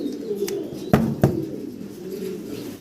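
Fancy pigeons cooing close by, low throaty warbling coos running throughout, with a couple of sharp knocks or wing-flap taps in the middle.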